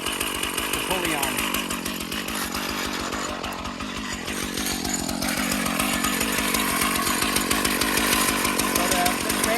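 A chainsaw fitted with an Alaskan mill rips lengthwise through a cedar log, its loud, close engine snarl holding steady under load as it grows gradually more intense.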